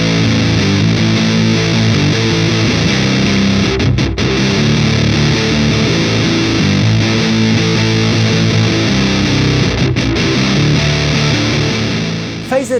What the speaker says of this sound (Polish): rozkręcając przester, uzyskujemy klimaty fuzowe, które również można wykorzystać na przykład do grania stoner rocka.